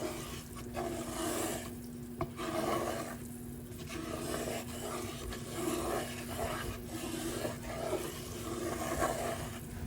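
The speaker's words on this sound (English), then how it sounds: "I'm scraping the sides" Roux scraped around the sides of a pan with a flat utensil, a continuous rough rasping and stirring with rhythmic strokes over a faint steady hum, close and fairly quiet.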